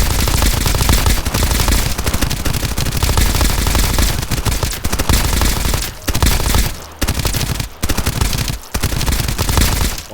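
An elemental gun in the video game Escape from Duckov fires rapidly in long, loud, dense bursts broken by a few brief pauses, with no talking.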